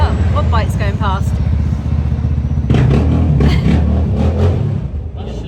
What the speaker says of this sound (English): Oh, what bike's going past?